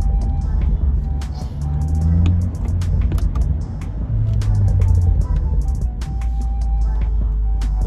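A Stage 2 BM3-tuned BMW M135i with the N55 engine driving in sport mode, heard from inside the cabin as a loud, steady low engine drone that rises and falls in pitch as the car accelerates, with a few faint pops.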